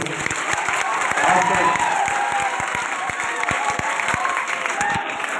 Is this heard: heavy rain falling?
no